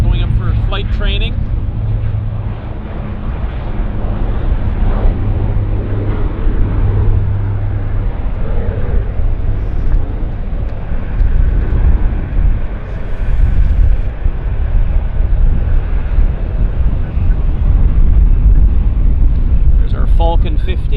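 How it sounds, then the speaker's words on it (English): A small training aircraft takes off at Vancouver Airport, its engine a steady broad roar that holds loud through the whole stretch under close wind noise, with people talking over it now and then. "They're going up for flight training."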